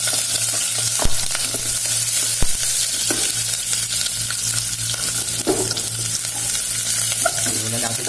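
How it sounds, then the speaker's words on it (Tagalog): Onions sautéing in hot oil in a saucepan give a steady, close sizzle and crackle, with occasional sharp clicks of a utensil stirring against the pot. No voices are heard. "Umpisa natin magisa."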